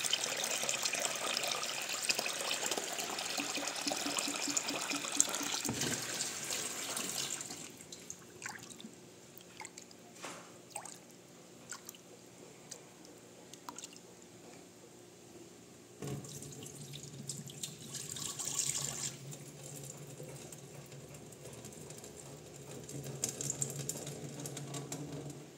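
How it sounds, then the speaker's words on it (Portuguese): Cracked corn grits rinsed under a running tap in a sink, water splashing and hissing steadily with intermittent sloshing, stirring and clicks as the grains are washed through several changes of water. "Aí eu vou passando várias águas até ela ficar bem limpinha."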